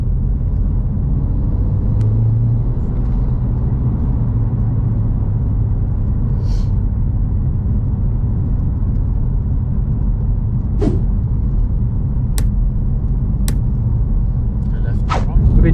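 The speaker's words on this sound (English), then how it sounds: "We've been driving the car a little bit more now." Honda Civic Type R driving on the road, steady low engine and tyre rumble from inside the cabin with occasional faint clicks, no speech over it.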